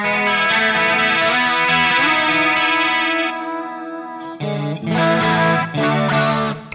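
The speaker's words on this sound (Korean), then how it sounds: "모듈레이션 한번 사용해 보겠습니다." Enya Inspire smart guitar played with a chorus modulation effect, a loud sustained strummed chord ringing out, then a brief dip and several renewed chord strums, shimmering and wavering throughout with no talking.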